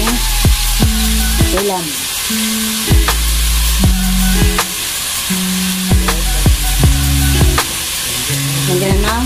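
Ground pork sautéing with pineapple tidbits in a pan, a steady close sizzle with scraping stirs of a spatula at intervals, while someone talks over it.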